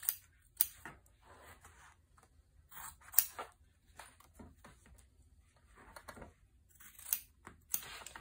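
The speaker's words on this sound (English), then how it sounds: "Cut these boxes out." Fabric boxes for a tote bag lining being cut out with scissors: quiet, sparse snips and short crisp cuts spaced irregularly, with soft rustling between them in a hushed room.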